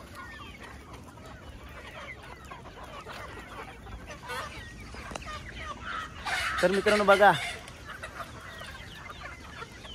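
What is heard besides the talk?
desi (gavran) chickens clucking in poultry shed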